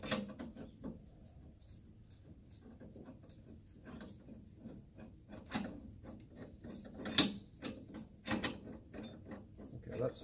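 Spring compressors being worked on the suspension of a Suzuki Every DA52V van on cracked concrete, giving scattered metallic clicks, ratcheting and clunks at close range, with a louder knock near the end and occasional low voices.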